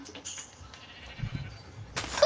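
Sheep bleat in Minecraft survival mode, a couple of short, nasal in-game calls at moderate loudness followed by a brighter burst of noise near the end, with no talking.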